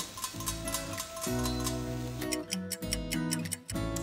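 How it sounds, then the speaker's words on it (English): A Saladmaster cookware lid valve clicks rapidly and rhythmically while pork sinigang cooks without water, a quiet close ticking over steady tonal hum from the stove area. "after about 10 to 15 minutes, you can hear the clicking"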